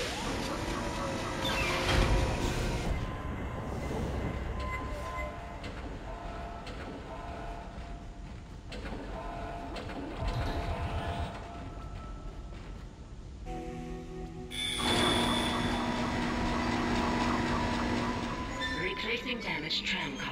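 A tram in the video game Dead Space rumbles along with loud, shifting mechanical roars and sustained metallic squealing tones, surging louder mid-way and again near the end, while a person talks over it.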